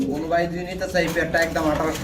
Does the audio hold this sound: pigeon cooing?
yes